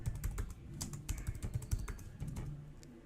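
Quick keystrokes on a computer keyboard as a keyword is entered, a close, steady run of light clicks and taps for about three seconds with no voices.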